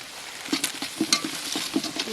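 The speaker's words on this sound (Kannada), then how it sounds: "ಚೆನ್ನಾಗಿ ಫ್ರೈ ಮಾಡಬೇಕು ರೈಸ್" Rice with fried rice powder stir-fried in a pan, a soft close sizzle broken by quick scraping and tapping strokes of a spatula.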